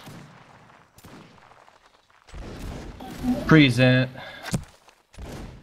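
Musket volley fire in Mount and Blade, heard as a few sharp separate cracks between stretches of quiet, while players talk over it with a raised, tonal call in the middle.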